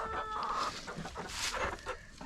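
Ameraucana hens on a homestead cluck and chatter close by, a run of short irregular clucks and squawks with one louder burst midway, fairly quiet overall.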